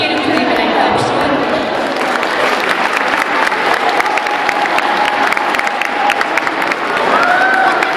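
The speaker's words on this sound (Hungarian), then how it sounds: "Kérünk szépen egy tapsot." A crowd applauds loudly and steadily at a talent-show awards gala, with scattered cheers mixed into the dense clapping, and a few voices are audible underneath.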